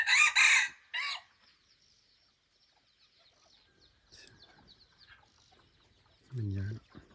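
Fighting rooster in a rural yard, with a loud close crow at the start followed by quieter scattered clucks and faint rustling, then a low throaty call near the end.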